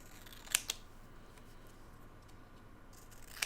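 Scissors snip through cardboard around a book, giving two quick close cuts near the start and one more near the end, with a quiet room in between.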